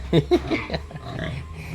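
Pigs on a farm grunt in a couple of quick, close snorts at the start, then softer rooting noises over a steady low background hum, with no talking.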